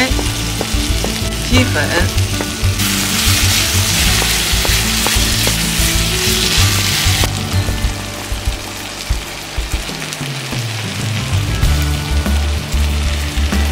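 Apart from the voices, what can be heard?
stir-frying eggplant in a pan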